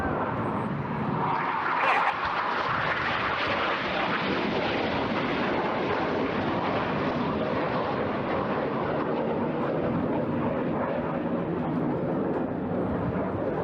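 Red Arrows jets in a flying display at the Eastbourne Airshow 2024, one trailing blue smoke, produce a continuous loud broadband jet roar that fills the whole stretch with no voices.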